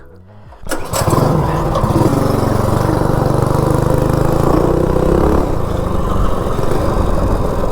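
Small engine of a Coleman B200 minibike, fitted with a 196 engine, fires up after a brief quiet start and then runs steadily and loudly with a low, buzzing drone for the rest of the stretch, with no talk.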